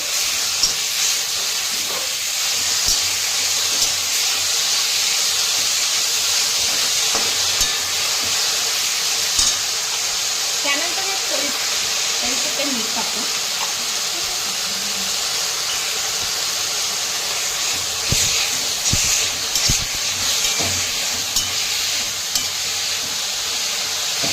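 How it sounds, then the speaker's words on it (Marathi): A vegetable dish steams and sautés in a pan with a steady loud hiss and faint stirring scrapes throughout, and no one talks. "भाजी थोडीशी वाफू देऊ"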